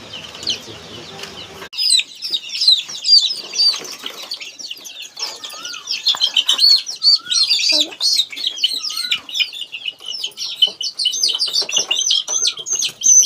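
Native poultry chicks at a farm chirp constantly in a dense, high chorus of overlapping peeps, close and fairly loud, with occasional clucks and wing flutters mixed in.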